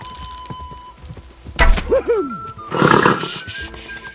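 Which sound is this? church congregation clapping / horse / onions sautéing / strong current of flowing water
horse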